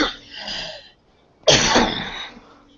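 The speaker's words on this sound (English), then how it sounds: "I just have a cough" A faint voiced sound fades out, then after a short pause comes one harsh, forceful cough with a rough, lingering tail.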